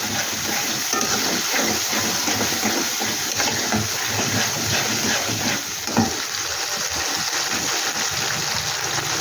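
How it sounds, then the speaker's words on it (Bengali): Green chilli and ginger paste frying in a pan, a steady loud sizzle and hiss with scattered crackles and occasional stirring. "তারপরে দিলাম কাঁচা লঙ্কা আর আদা বাটাটা। এটাকে একটু ভালো করে ভেজে নেব।"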